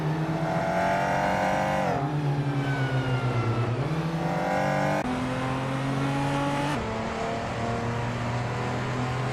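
Race cars such as a Peugeot 205 and Lotus Esprit lapping the Autopolis circuit in a racing video game, a continuous loud engine drone with several shifts and revving changes, no voices.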